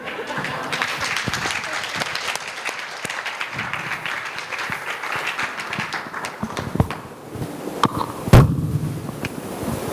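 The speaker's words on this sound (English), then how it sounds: "keep clapping" Audience clapping at a women in finance and investment summit and awards event in Ghana, uneven and lively with cheering voices and talk over it, thinning toward the end with a few sharp louder claps.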